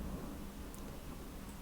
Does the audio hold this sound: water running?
no